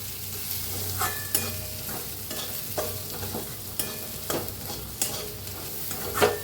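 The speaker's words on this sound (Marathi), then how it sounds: "मिक्स करून घेऊया मसाला सगळा" Spice masala with Kolhapuri red chilli powder and coriander powder is stirred in a hot pan, a soft continuous sizzle broken by regular scraping strokes of the spoon, close and unaccompanied by speech.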